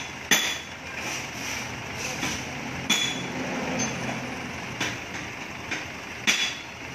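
A hammer strikes metal in a workshop on a motorbike's fuel-tank evaporative emission control valve, giving sharp scattered clinks at irregular intervals over a steady background hum.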